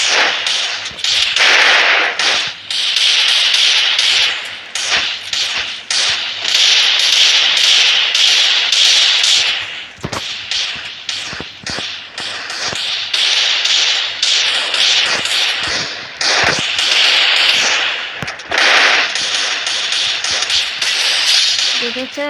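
Gunshots in the video game Free Fire, a long run of loud sharp cracking shots and bursts with brief pauses between, dense and close throughout.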